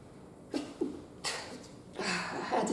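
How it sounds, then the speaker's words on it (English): A single person sneezes indoors with a quiet room background, a few short bursts of breath around it. "I had a sneeze."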